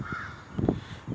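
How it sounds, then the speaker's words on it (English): Crows cawing outdoors after a rainy day, a few short harsh caws in quick succession, moderately near and fairly faint against a quiet background. "Crows making noise."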